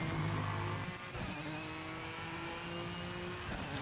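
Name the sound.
racing car engine in video game Project Motor Racing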